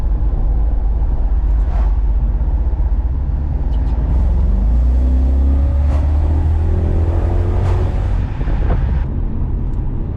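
A BMW E31 engine hums steadily from inside the cabin, its pitch climbing as the car picks up speed, with a few faint clicks and knocks.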